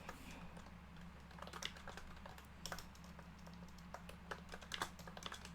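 Fingers tap out a quick, uneven patter of clicks on a computer keyboard, quiet and close, with short bursts and brief gaps between keystrokes.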